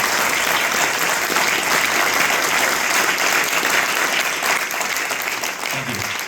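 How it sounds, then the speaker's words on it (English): Dense, steady applause fills an audience hall at a theme park announcement, a loud continuous wash of clapping that holds strong throughout and eases slightly near the end. "I want to give you and your family a round of applause"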